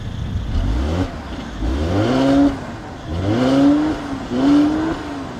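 A 2015 Mercedes-Benz C-Class, C300 or C400, revs its engine in three rising blips, each pitch climbing smoothly then dropping back, loud and close with no talk.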